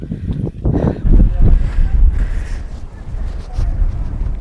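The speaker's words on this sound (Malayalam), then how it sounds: "നല്ല തണുപ്പുമുണ്ട്, നല്ല കാറ്റുമുണ്ട്" Strong, cold wind on the Paithalmala hilltop in Kannur roars and buffets the microphone in heavy, uneven gusts, a loud, continuous rushing outdoors.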